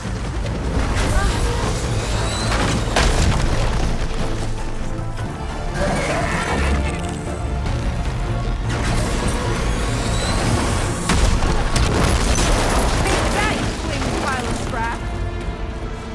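Crashes and explosions boom through a dense, loud action scene in the video game Horizon Forbidden West, with rumbling impacts, mechanical clatter and heavy effects layered together while characters talk over the chaos.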